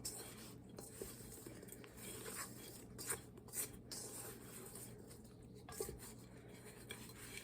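Bread cubes for air fryer croutons being tossed in a bowl, soft faint rustling and light scraping with a few sharper clinks of utensil on the bowl, no voices.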